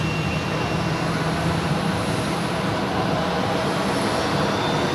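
An Airbus A330 jet on the runway at Zurich Airport gives a steady, continuous broadband engine roar that holds at an even, fairly loud level throughout, with no voices.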